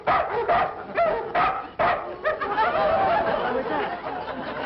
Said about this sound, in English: They've got barking dogs.